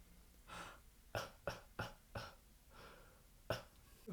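Someone draws air in and pushes it out through mouth and throat, making a series of short, sharp breathy bursts, quiet and close, with no other sound around them.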